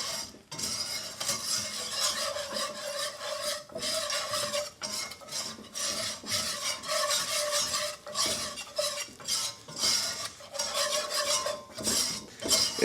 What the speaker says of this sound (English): the flour is definitely cooking in that hot oil